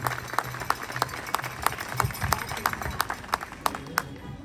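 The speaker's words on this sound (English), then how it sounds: "I just want to give a round of applause for the organizers of this event." Scattered hand claps from a crowd at an outdoor No Kings protest rally in Maynard, Massachusetts, sharp separate claps over a rumbling background, faint voices underneath.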